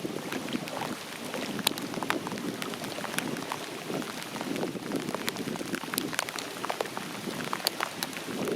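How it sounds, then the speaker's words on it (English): Rain falls steadily during a summer thunderstorm on a multiday kayak trip in Ontario, a dense even hiss of drops with sharper individual patters on nearby surfaces, continuous and fairly close. "It's starting to rain."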